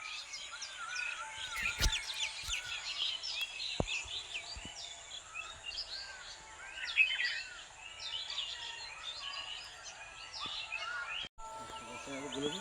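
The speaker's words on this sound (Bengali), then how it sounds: "এই যে পায়রা 10 পায়রা আছে" Domestic pigeons kept at a Bengali home loft, with a thin layer of coos and chirpy bird calls running throughout, moderately near, under a faint background hum and a couple of sharp knocks.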